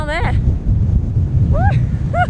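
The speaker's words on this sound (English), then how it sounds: "It's so windy." Strong wind on the Scottish coast near John o' Groats buffets the microphone with a loud, low, roaring rumble throughout. A few brief high-pitched calls cut through it.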